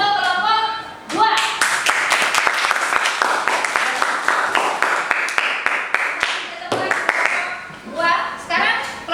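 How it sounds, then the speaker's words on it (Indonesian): A classroom of students applauds for a group after its presentation, loud close-up clapping that runs for several seconds, fades briefly, then picks up again in bursts. "kita aplaus untuk kelompok 2"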